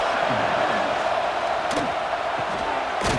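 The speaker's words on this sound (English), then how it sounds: "This crowd trying to make life miserable for this offense." A stadium crowd in a college football video game between Miami and Notre Dame roars in a steady, loud wash of noise, with a few sharper bursts of cheering rising above it.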